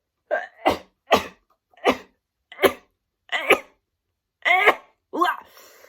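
Sneezes from a person allergic to their pet guinea pigs: about seven sharp, close bursts in quick, fairly even succession, loud and alone with no talk between them.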